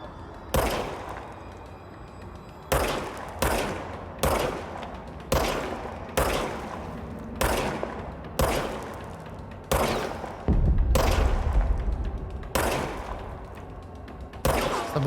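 Service Weapon gunfire in the video game Control, a series of about ten loud, sharp single shots at irregular intervals roughly a second apart, each with a short echoing decay, plus a brief low rumble midway.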